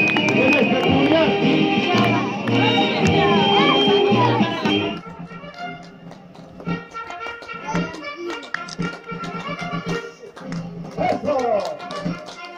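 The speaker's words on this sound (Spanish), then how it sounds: "vamos a recibirlo con un voto de aplauso fuerte" Applause and cheering from a crowd welcoming elders at a rural school parade for national holidays in Peru, a dense clapping wash for the first five seconds, then thinning into scattered claps, voices and someone talking.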